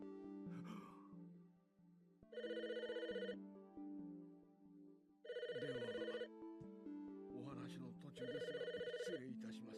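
An electronic telephone ringing in the Famicom Detective Club video game, repeating bursts of a bright two-tone trill separated by short pauses, clear and up front.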